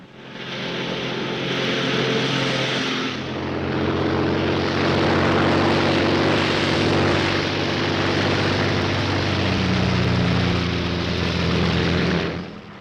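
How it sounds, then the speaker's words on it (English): A Royal Air Force propeller plane drones steadily in flight, a loud continuous engine roar that holds throughout with slight swells, no voices over it. "a Royal Air Force plane is waiting for us at a secret landing place"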